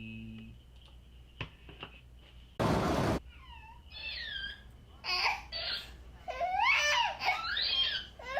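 A house cat meows several times in quick succession from about mid-clip, fairly close and clear, after a short sharp burst of noise; no one talks.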